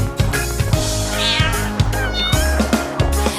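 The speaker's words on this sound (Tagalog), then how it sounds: "The cat on the farm goes meow, meow, meow." Cat meows repeated over a busy musical backing, loud and close, in a bouncy children's song arrangement.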